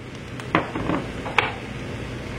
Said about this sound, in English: we will now fry this for another 2 to 3 minutes